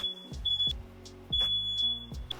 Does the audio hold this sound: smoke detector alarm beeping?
yes